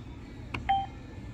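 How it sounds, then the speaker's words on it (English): A Hyosung ATM keypad gives a short electronic beep as enter is pressed, a single clear tone over a quiet background hum. "you press on enter on the keypad"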